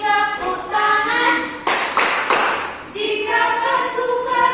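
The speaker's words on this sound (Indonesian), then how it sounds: "Jika kau suka kami tepuk tangan." A group claps hands in rhythm with a sung tune, several sharp bursts of clapping standing out over the singing voices.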